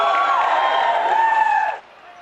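A game crowd roars and cheers during a Blood Bowl match, a loud sustained wash of voices that swells and then cuts off abruptly near the end.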